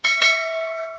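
A notification bell sound effect: a single bright, sustained metallic chime that rings out clearly and decays slowly over about a second, with no other sounds.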